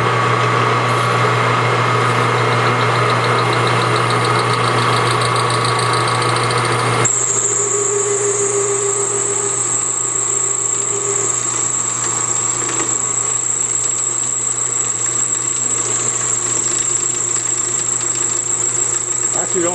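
A metal lathe turns and cuts across bolt holes in a workpiece for a Stirling engine, a loud steady mechanical whine whose tone shifts abruptly partway through.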